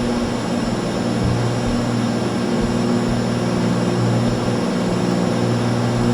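Piper PA-28R Turbo Arrow propeller plane in the X-Plane flight simulator, climbing out on a rough, windy takeoff: a loud, steady engine and propeller drone holding constant throughout.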